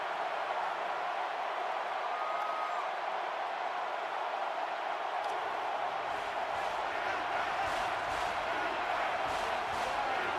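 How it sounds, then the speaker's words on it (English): A packed stadium crowd at an LSU college football game in a video game roars steadily and loudly throughout, a dense wall of cheering without breaks. "It's arguably the loudest crowd in the nation, and they are turning it up a notch."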